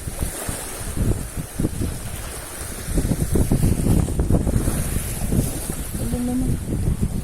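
Strong wind gusts over open water at a rocky fishing spot, a steady roaring rush with surf-like swells throughout, a brief low hum near the end, and a short spoken question in Tagalog.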